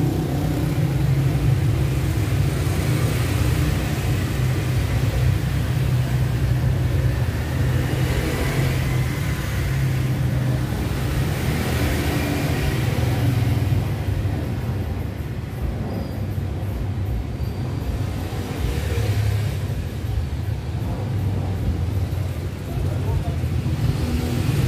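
A Ford Ranger pickup engine idles steadily at close range, a continuous low rumble that holds level throughout with no clear revving.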